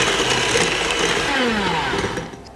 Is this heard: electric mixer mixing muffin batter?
yes